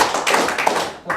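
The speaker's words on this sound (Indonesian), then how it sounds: "Tepuk tangan 2 kali. Tepuk tangan 3 kali." Hands clap in a classroom drill, a short burst of several sharp claps in quick succession from a group close by, with a brief pause before a final clap.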